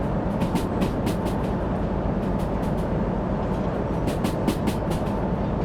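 A freight train picks up speed in the simulator game Derail Valley, a constant low engine drone with rhythmic clickety-clack of wheels over rail joints, heard steadily from the cab.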